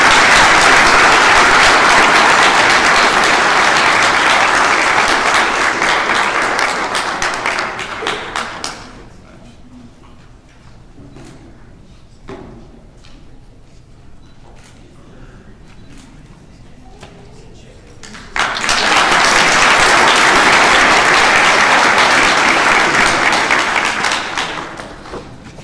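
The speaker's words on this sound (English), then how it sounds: "once again have you give him a warm round of applause for his" Warm rounds of audience applause at a graduation ceremony, two loud sustained bursts of many hands separated by a quieter stretch of scattered claps and taps.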